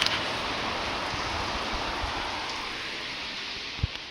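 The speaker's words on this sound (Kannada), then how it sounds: "ಎಷ್ಟು ಜೋರಾಗಿ ಬರ್ತೈತೆ ಅಂದರೆ ಮಳೆ" Heavy rain pours down steadily outside a house, a dense, even hiss of downpour close by, with one brief sharper knock near the end.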